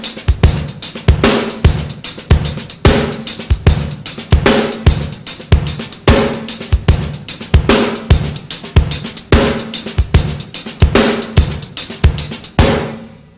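A steady drum kit groove with a shuffling bass drum, sharp snare backbeats and cymbal wash, played loud and close with no talking, ending on a ringing cymbal.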